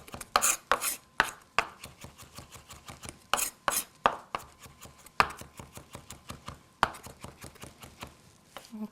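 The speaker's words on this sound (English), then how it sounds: "So here we have 3 cloves of garlic. We just want to give them a coarse chop and set them aside." Knife coarsely chopping three garlic cloves on a cutting board in a home kitchen, a steady run of crisp, close taps in uneven clusters, alone without talk.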